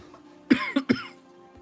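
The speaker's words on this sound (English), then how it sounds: "I'm going to cough, and then I'm going to have a cough drop." Three sharp coughs in quick succession, close and fairly loud, followed by quiet.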